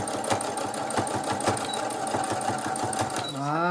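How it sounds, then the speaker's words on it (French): A sewing machine stitches a baby comforter in a steady, fast rhythmic chatter of needle strokes, close and loud, running continuously before slowing to a stop with a brief whirring wind-down at the end. "j'hésite pas à refaire de la couture"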